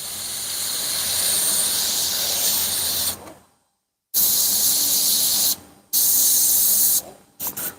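An airbrush sprays paint onto a hoodie in three sustained, loud hissing bursts. Each stops abruptly, leaving brief silent gaps before the next blast.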